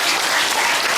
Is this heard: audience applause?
yes